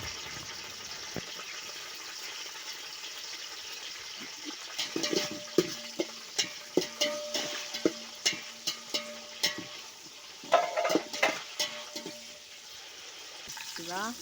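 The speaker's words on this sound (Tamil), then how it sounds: "புதினாவும் பச்சை மிளகாயும் வதங்கிடுச்சு" Mint leaves and green chillies sautéing in a home kitchen pan, a low steady sizzle with a run of sharp clinks and scrapes as a spatula stirs through the middle, then quieter frying near the end.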